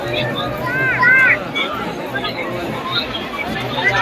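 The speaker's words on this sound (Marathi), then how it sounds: "बघा किती गर्दी आहे पालखी चाललेली आहे" Dense crowd chatter and hubbub fill the Jath Yallama yatra as the goddess's palkhi procession passes, loud and continuous, with whistles and shouts rising briefly over the babble.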